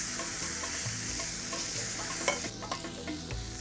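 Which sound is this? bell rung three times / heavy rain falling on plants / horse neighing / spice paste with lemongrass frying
spice paste with lemongrass frying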